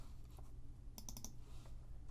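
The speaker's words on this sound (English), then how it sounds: "And I'll do that by hitting V on the keyboard," Computer keyboard keys pressed, a quick cluster of three or four sharp close clicks near the middle over a faint low hum, with a couple of softer taps around them.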